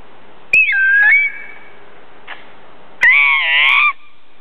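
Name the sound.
person imitating a bird call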